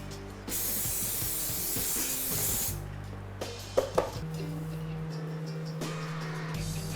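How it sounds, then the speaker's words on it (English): Non-stick cooking spray hisses out in one strong, close burst of about two seconds, followed by a few quieter clicks and rustles over faint background music. "I have to spray it with the non-stick spray"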